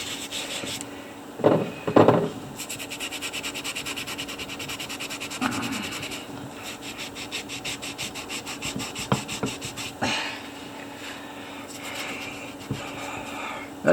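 A wet sponge scrubber is rubbed over a small fossil from Lebanon, making close, rough scraping strokes in uneven bursts with a few louder scrubs near the start and steady rubbing afterward.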